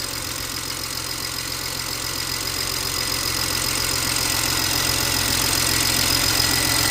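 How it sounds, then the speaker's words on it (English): A 2007 BMW 335xi inline-six idles with all six injectors firing, a steady close engine hum with a faint ticking texture, growing slightly louder over the seven seconds. "Got all six injectors firing."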